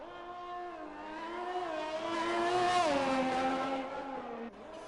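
Race car engine on a hot lap in a racing video game, a rising high wail that climbs to a loud peak, then drops and cuts off sharply near the end.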